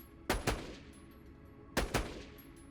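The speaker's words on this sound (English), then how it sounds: "I'm shooting through his shield and just hitting his body because shields resist fire" Sniper rifle fire in Borderlands The Pre-Sequel, a Vladof sniper shooting through an enemy's shield: two sharp paired bursts of shots, about a second and a half apart, ringing out loud over a low game background.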